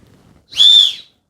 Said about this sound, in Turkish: Şöyle bir düdük yaptım. Bu düdüğün maliyeti deprem düdüğü olarak yaptım.